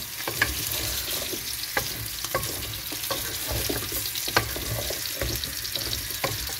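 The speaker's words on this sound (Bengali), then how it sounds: "তো আমি এখন এটা ভালোভাবে কষিয়ে নেবো।" Continuous pan sizzle with repeated scraping clicks of a spatula stirring turnip, potato and tomato curry, steady and close, no voices.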